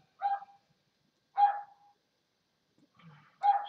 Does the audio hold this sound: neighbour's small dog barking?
yes